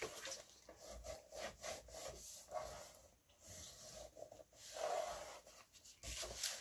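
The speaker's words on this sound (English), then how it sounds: "I'm just going to burnish that down to the page." Paper is burnished down onto a scrapbook album page, making a steady, soft dry rubbing with repeated back-and-forth strokes, close and quiet.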